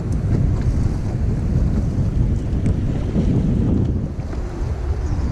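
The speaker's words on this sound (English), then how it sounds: "Winds are picking up immediately out here now." Strong wind roars continuously across the microphone, a heavy low rumble with gusts rising and falling, no voices.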